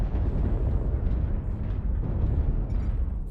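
LRM missiles strike a mech in MechWarrior Online with a continuous, rumbling roar of overlapping explosions, heavy and muffled, loud throughout with small surges.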